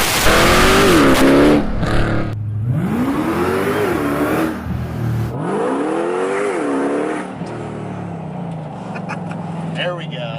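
A modified 2018 Jeep Grand Cherokee Trackhawk of about 1,000 hp, with upgraded drive shafts and rear axles, accelerates hard, its engine loud and close as it climbs through rising revs and gear changes, with brief voices over it.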